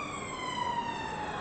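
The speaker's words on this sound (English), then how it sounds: "why do we have sirens all the time?" A wailing emergency vehicle siren sweeps steadily outside, its rising and falling tone filling the moment continuously at moderate volume without any talk over it.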